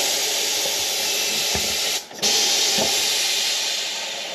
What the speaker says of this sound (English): Nice air leak there.